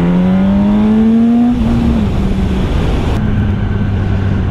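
A Yamaha YZF-R1 RN19 sport motorcycle rides through small villages, its engine loud and close as it revs up in a rising whine, then settles into a steady drone.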